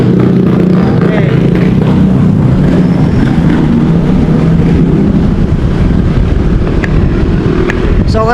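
Motorcycles with their exhaust mufflers removed pass by outdoors, giving a loud, continuous engine roar mixed with wind noise across the whole stretch.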